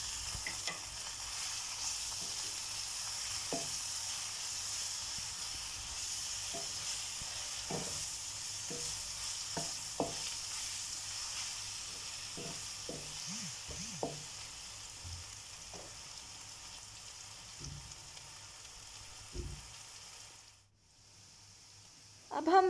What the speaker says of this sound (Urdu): اس میں 2 table spoon ginger garlic paste add کر لیں اور اس کو تھوڑی دیر پکنے دیں